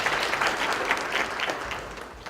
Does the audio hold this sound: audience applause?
yes